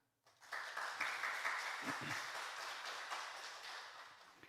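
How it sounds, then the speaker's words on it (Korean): A church congregation breaks into applause welcoming a new accompanist at Sunday worship, starting abruptly after brief quiet and continuing as a steady, moderately distant wash of clapping with a faint voice briefly underneath. "우리 반주자 잠깐 일어나셔서 인사하실 때 큰 박수로 환영해 주시겠습니다"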